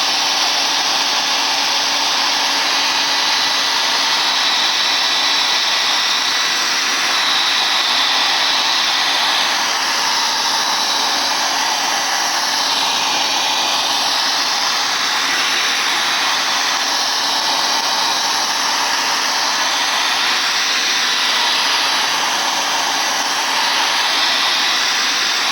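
A hair dryer blows continuously over spray bottle art, a loud, steady, close whooshing roar that varies slightly as it moves, with no voices.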